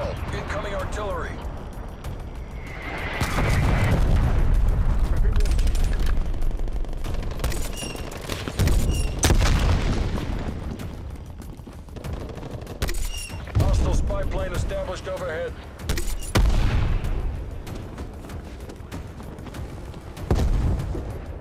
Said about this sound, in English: Incoming artillery. Enemy forces are dropping on your grid.